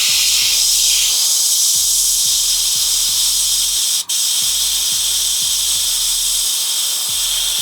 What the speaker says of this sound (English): Every now and then you might want to clear the airbrush like that